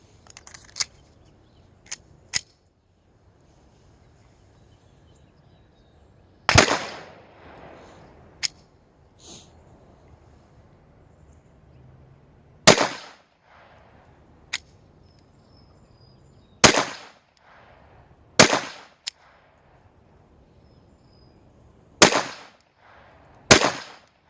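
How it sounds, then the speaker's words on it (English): A Walther PPK/S .22LR pistol fires outdoors in sharp single shots spaced a few seconds apart, about seven loud cracks with fainter clicks and pops between them, close and with no talking. "this is the Walther PPK 22. Let's do some shooting with it."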